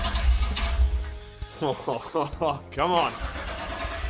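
A car engine is cranked over by its starter with a low rumble, while a voice speaks briefly over the effort.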